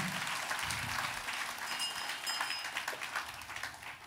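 A church congregation applauds during a sermon, a dense wash of clapping from many hands that fills the room at moderate distance and slowly tapers toward the end, with no talking over it.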